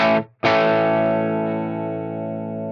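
A distorted electric guitar through an Axe-Fx III Marshall amp model strikes a chord, cuts off briefly, then rings out again with a long, sustained, gritty decay.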